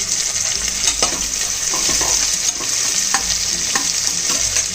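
Small shallots sizzle and fry in hot oil in a pan for a homemade mushroom kuzhambu, a loud continuous crackle with occasional stirring scrapes and clinks throughout.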